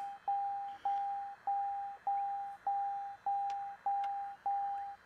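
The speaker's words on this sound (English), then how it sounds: "Get rid of that annoying beeping sound" Cockpit warning beeps in a Cessna Skyhawk in Microsoft Flight Simulator: a steady, evenly spaced run of eight loud, pure electronic tones, each about half a second, repeating with short gaps over a faint hum.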